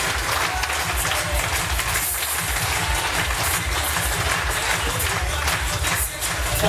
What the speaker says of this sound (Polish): Brawa do pani Grażyny.